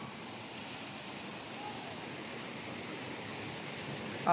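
Steady broadband rush of water pouring into a natural park bathing pool in Bicol, constant and even with a brief louder surge at the end.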